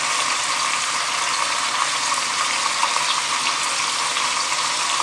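Garlic cloves browning in a pan, a steady dense crackling sizzle that holds evenly throughout without pause.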